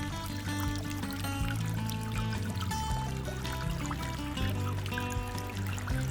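Water runs steadily through a Blue Bowl gold concentrator during a prospecting cleanup, a continuous pouring trickle with a motorized pump hum and tonal mechanical whine underneath.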